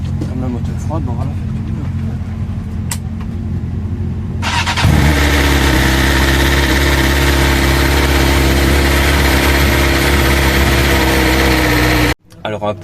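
A cold motorcycle at a racetrack session starts up and idles loudly and steadily close by for several seconds, then cuts off abruptly; quieter talk and background noise come before it.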